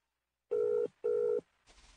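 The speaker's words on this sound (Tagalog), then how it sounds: "Nagsige na malanig ring ang iyang cellphone" A cellphone ringing as a sound effect in a radio drama: two loud, steady electronic ring bursts in a row, each under half a second, followed by a faint noisy tail, with no voices.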